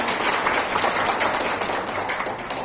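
An audience applauds at an Indonesian gathering, a dense, steady wash of many hands clapping, loud and close throughout, with no voices over it.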